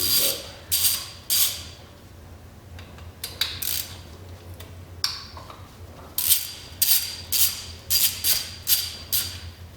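Ratchet loosening valve cover bolts on a 1.4L Chevy Cruze engine: bursts of quick metallic clicking, close and clear, repeating in short runs with pauses between them.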